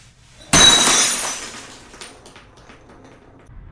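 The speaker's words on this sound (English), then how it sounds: "the sound of the shattering of this very expensive wine glass" An expensive wine glass shatters in one sudden, loud, close crash, followed by scattered tinkling fragments that fade over a few seconds.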